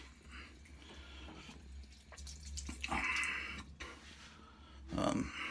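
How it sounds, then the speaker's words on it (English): Hands being rinsed under a running tap at a sink, water splashing and gurgling in uneven bursts with short pauses, close and fairly quiet. "I'm gonna rinse my hand off here."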